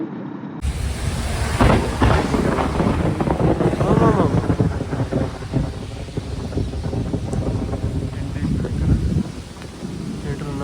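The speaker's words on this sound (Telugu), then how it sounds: "ఫుల్ వాన పడుతుంది." Heavy rain pours down during a road trip by car, making a loud, continuous broadband roar with low rumbling underneath and faint voices mixed in.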